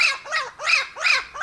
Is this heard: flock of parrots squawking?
yes